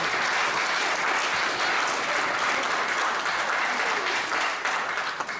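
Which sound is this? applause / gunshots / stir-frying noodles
applause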